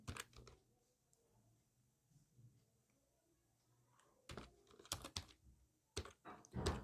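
Keys clatter on a computer keyboard as data is entered into an Excel invoice, with faint soft taps early on, then bursts of quick, close clicks toward the end, all quiet overall.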